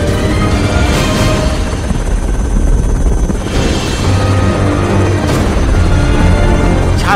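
A rescue helicopter flying over flood-hit Odisha during heavy rain, its rotor drone loud and continuous throughout, close and unbroken, with no voices.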